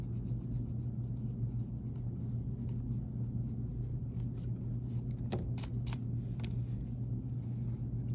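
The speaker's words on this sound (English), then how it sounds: "I'm gonna try to erase away my box" Eraser rubbing out pencil lines on a sketch, a soft, close, scratchy friction that runs continuously over a low steady room hum, with a few sharper rubs near the end.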